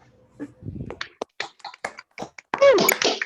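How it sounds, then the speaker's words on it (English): Scattered claps and taps come from online meeting participants as they unmute, uneven and sparse at first, then denser, with voices joining toward the end. "give a final round of applause appreciation for our presenters"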